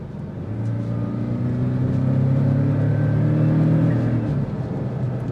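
A 2025 Porsche 718 Cayman Styling Edition with PDK accelerating hard, its engine note rising steadily in pitch over several seconds, loud and close, then dropping slightly near the end.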